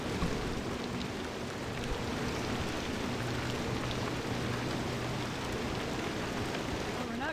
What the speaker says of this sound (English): nothing else seems to be happening except the rain